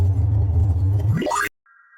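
A thick, buzzing synthesized tearout dubstep bass drone rises into a sharp upward pitch sweep, cuts off abruptly, then a thin steady tone follows briefly.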